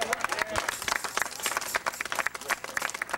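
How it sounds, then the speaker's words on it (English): A church congregation claps their hands together in a steady, fast patter of many overlapping claps, moderately loud and close, with voices talking over the clapping. "Let's give God a hand clap."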